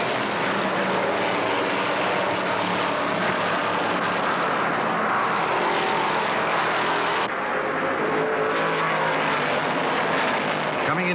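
Stock cars roaring off at the start of the 1972 World 600 at Charlotte, a dense, continuous engine drone filling the track while an announcer talks over it.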